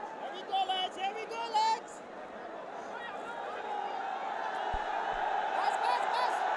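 Stadium crowd at a Bangladesh Premier League cricket match between Sylhet Titans and Rajshahi Warriors, a steady crowd roar building slowly, with brief whoops and a commentator's voice over it near the start.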